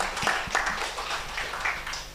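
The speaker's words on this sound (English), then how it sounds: "Can we clap for him?" An audience claps together at a live-streamed academic presentation session, a dense, steady patter of many hands spread across the whole moment at moderate loudness, with faint background voices.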